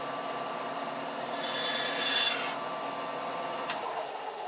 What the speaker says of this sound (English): now I'm going to cut some pieces on the bandsaw